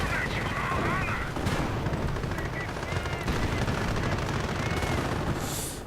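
Heavy, continuous battlefield din of Panzer IV tank barrages in a WWII real-time strategy game, with dense rapid gunfire and booming shell impacts layered loudly across the whole stretch, an announcer's voice running underneath.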